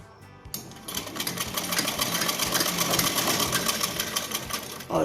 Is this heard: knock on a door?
no